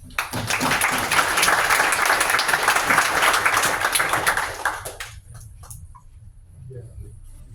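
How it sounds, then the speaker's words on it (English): A crowd at a tech demo night claps together in a full, sustained round of applause that thins out around five seconds, leaving a few scattered claps and quiet room noise. "we'll give a round of applause"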